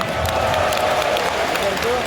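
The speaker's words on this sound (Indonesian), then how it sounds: "Tepuk tangan buat kita semuanya." An audience applauds at an Indonesian leadership and success seminar, a dense, steady wash of clapping that fills the room at full loudness, with a voice partly audible over it.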